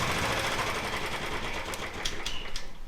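Royal Enfield Bullet Standard 350 motorcycle engine idling with a fast, busy mechanical clatter, loud and close, followed by a few sharp clicks near the end.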